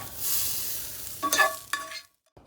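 Vegetables being stir-fried in oil for bibimbap, a steady hiss of sizzling with a couple of louder spatters as the pan is stirred, then cutting off to near silence before a brief final clatter.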